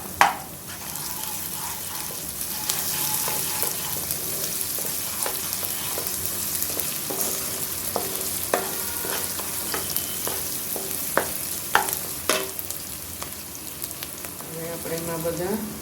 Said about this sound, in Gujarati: હવે એમાં આદુ મરચાંને શેકી દઈશું।